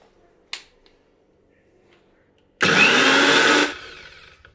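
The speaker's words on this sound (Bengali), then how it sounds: "এবার গ্লাইন্ডারে পিসে নেবো" An electric grinder whirs loudly for about a second as it grinds herbs and cloves, bursting in abruptly and then cutting off, after a single sharp click earlier in near silence.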